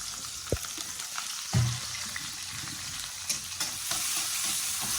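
Onions, fennel seeds, mustard seeds, green chilli and curry leaves sauté in a pan with a continuous, moderate sizzle, punctuated by a few sharp knocks and scrapes of a stirring spoon, with no talk.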